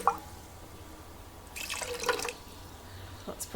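Macadamia milk dripping and splashing from the tap of a Thermomix, a few small drips followed by a brief, brighter spattering burst midway, close and fairly faint, with no talk.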